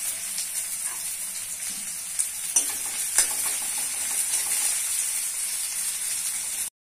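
Chopped onion frying in hot oil for a gourd-leaf curry gives a steady, close sizzle and hiss, with a few sharp stirring scrapes near the middle before it cuts off abruptly.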